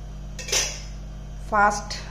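Metal pot lid clanks onto a cooking pot in a home kitchen while lentil-and-pointed-gourd curry simmers, two short clattering contacts close by against a low steady hum.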